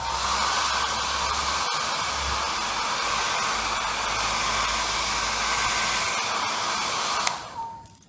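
A hair dryer blows steadily to dry wet paint on a one-stroke flower painting, giving a loud, even whoosh with a constant whine that cuts off abruptly near the end.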